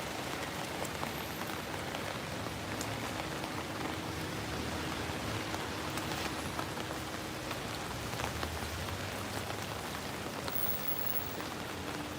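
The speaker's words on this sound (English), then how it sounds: "Rainy St. Pete." Steady rain falls in St Petersburg, Russia, a close, continuous dense patter and hiss that holds evenly from start to finish with no voices.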